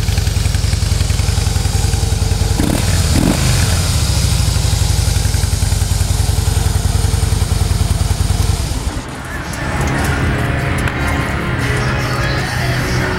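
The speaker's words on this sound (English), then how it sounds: "Engine's nice and quiet." A Harley-Davidson Deluxe FLSTN with factory exhaust idles close by with a steady, loud, low rumble that continues throughout, shifting slightly in tone partway through.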